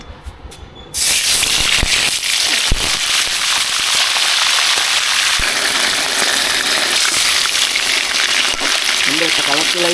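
Chicken pieces dropped into hot oil burst into a loud, dense sizzle and crackle that starts abruptly after a second and stays steady and close, with a voice speaking briefly over it.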